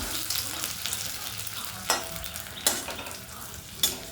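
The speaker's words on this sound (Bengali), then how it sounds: "এটা ভাজা হয়ে গেছে ফ্রাই" An egg potato paratha fries in ghee on a pan, a continuous crackling sizzle marked by three or four sharp scraping bursts as it is pressed and turned, no one speaking.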